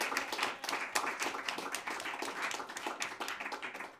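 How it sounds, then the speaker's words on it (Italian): Audience applause for the technicians at a live music set, a dense, steady patter of clapping hands lasting several seconds, fairly quiet and with no talking over it. "E vorrei fare anche un applauso ai due ragazzi che sono qua, Federico De Zottis e Andrea Leone"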